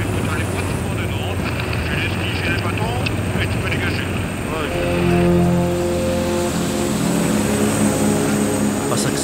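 A rescue helicopter hovers low over skiers on a snowy mountain, its rotor blades beating in a loud, steady drone that swells partway through, with voices underneath.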